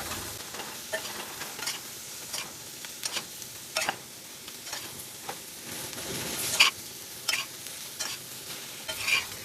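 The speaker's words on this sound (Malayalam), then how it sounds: "ആവശ്യത്തിനുള്ള ഉപ്പും കൂടെ ഇട്ടിട്ട് നന്നായിട്ട് ഒന്നുകൂടെ മിക്സ് ചെയ്യാം" A spoon or spatula scrapes and stirs Kerala-style cauliflower thoran with salt in a pan, in irregular close strokes and clicks over a soft background sizzle.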